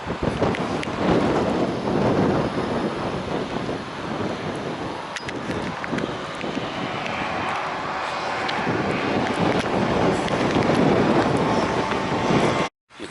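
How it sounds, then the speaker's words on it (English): Strong wind buffets the microphone on a hillside walk along a disused railway path, a loud, roaring, continuous rumble that surges and eases slightly before cutting off abruptly at the end. "You can see how windy it is."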